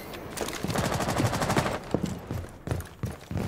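Rapid gunfire in a Rainbow Six Siege match, a loud, fast automatic burst followed by a few separate sharp shots toward the end, close and alone without talk.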